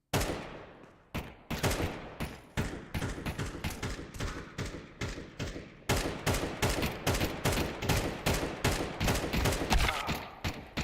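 Rapid gunfire in Counter-Strike 2, sharp close shots in quick bursts and runs with short gaps between them, loud and up front, with no talking.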